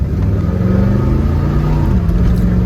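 A 1971 Corvette engine rumbles loudly and steadily from inside the moving car, with a deep, continuous drone that rises slightly in pitch as it accelerates.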